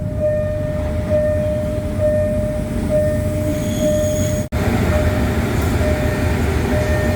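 A Bangkok local train near Phaya Thai rumbles loudly nearby with a steady hum, a faint squeal of wheels and a brief cutout partway through.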